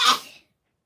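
A single short, sharp sneeze bursts out close and loud, then cuts off quickly into silence.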